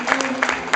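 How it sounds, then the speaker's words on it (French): An audience applauding the arrival of filmmaker Brian Yuzna in a brief, steady burst of dense clapping that stays at an even level. "C'est encore plus fort, plus d'applaudissements."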